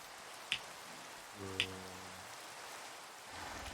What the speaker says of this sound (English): This is rain.